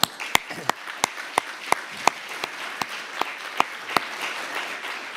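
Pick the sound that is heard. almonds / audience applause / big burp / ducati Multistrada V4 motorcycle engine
audience applause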